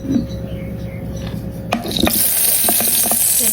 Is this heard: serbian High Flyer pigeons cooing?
no